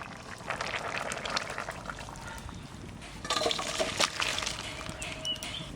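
Mustard oil going into a pan for a tempering of black cumin seeds, a steady liquid hiss with a brighter crackling burst midway, close and fairly loud with no talk.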